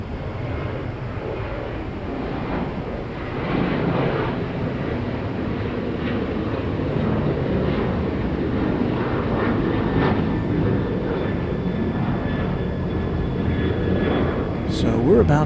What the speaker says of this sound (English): This will be an Airbus A330-200.